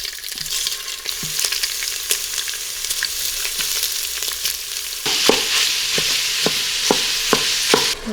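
Broken-up sausage browns in an Instant Pot with a steady, close sizzle and crackle, joined midway by a run of rhythmic stirring scrapes against the pot.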